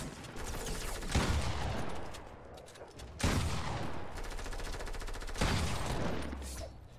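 Gunfire in a first-person shooter game roars in sustained, dense volleys that swell three times, loud and close, with no talking over it.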